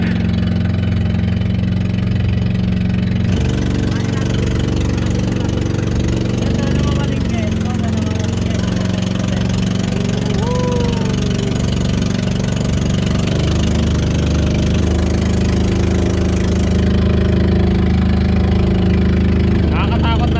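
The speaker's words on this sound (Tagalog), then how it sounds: "Bumabangking na yung bangka." A motorized outrigger boat's engine runs with a steady loud drone throughout during island hopping in Garchitorena, Camarines Sur, with wind and water noise and people talking over it.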